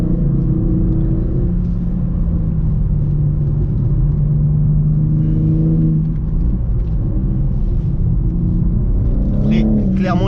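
BMW M3 G80 engine on a track, a loud rumbling drone that rises in pitch as the car accelerates under power, with someone talking over it.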